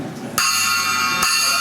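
A small Zildjian chime bell is struck twice, each hit ringing out as a bright, sustained metallic note with a warm character, close and clear with no talking.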